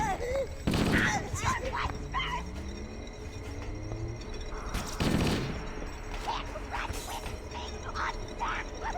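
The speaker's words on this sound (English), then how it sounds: "The assault rifle feels pretty weird in this game." Assault rifle fire in Halo: Combat Evolved, bursts of rapid game gunshots with loud peaks near the start and middle, mixed with other game effects and a person talking over them.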